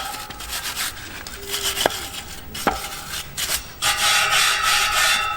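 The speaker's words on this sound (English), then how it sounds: "So I've got a wire brush." A small wire brush scrubs old paint off a metal garden feature, giving a close, rough scratching that comes in uneven strokes with a few sharp knocks and then a denser burst of bristle rasping near the end.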